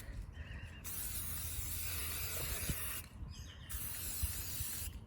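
Spray paint hisses onto a coffee mug in two steady bursts, a broad, close airy spray separated by a brief pause, with faint handling noises underneath.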